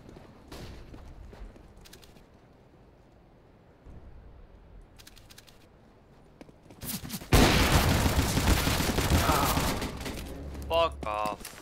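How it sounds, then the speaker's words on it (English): Flashbang grenade and gunfire in Counter-Strike: Global Offensive, a loud burst of dense, sustained shooting erupting midway after quieter game ambience, with players talking faintly underneath. "I'm throwing a flashbang."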